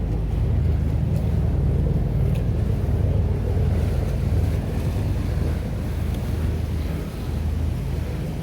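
Water pouring over Sunbury Weir on the River Thames, a steady, loud low rush with wind buffeting the microphone throughout, no voices.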